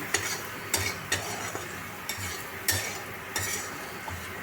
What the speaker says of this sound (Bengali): একসাথে সব মিশিয়ে নিয়ে সব একসাথে কষে নিচ্ছি